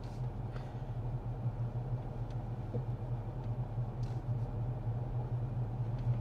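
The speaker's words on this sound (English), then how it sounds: "it even sounds like a Tesla" A Tesla Model S driving on a track gives a steady, low electric motor and road rumble that stays constant and close throughout, with no speech.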